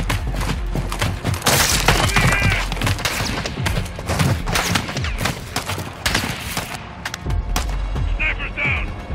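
Rapid crackling gunfire and splintering impacts in a Modern Warfare II mission, with a sniper rifle among the shots, loud and continuous with voices talking over the combat.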